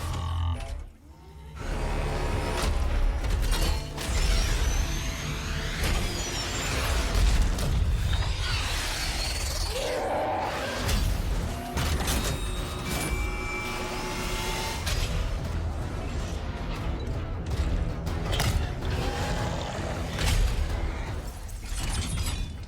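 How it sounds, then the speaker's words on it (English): Dense, loud film sound from Pacific Rim as giant Jaeger robots move, with heavy metallic clanks, grinding mechanisms and booming impacts layered continuously over a deep rumble, with no speech. "all the robots, again, unlike in other movies where they simply do the sounds, actually sound like they're made of metal"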